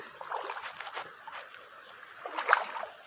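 Faint trickling and splashing water from a river, soft and close, with a slightly louder splash near the end and no talking.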